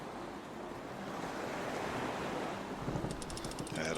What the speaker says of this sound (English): Gotta love the swell when you're sailing here.